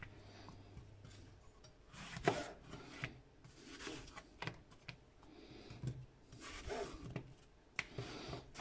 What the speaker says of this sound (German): Dann viertel ich die und entkerne sie und tue den Strunk eben weg.